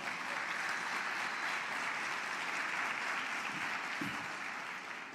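A congregation applauds during a church sermon, steady dense clapping filling the whole stretch at an even level without letting up.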